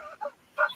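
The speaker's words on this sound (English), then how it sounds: "Doggy." A dog gives two short barks, close and fairly loud, separated by a brief pause, with nothing else heard in between.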